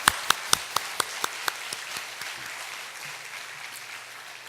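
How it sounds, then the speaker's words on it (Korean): Encouraging applause from a church congregation, opening with a few loud separate claps that quickly merge into steady, moderately quiet clapping which fades slightly toward the end. "격려의 박수 한번"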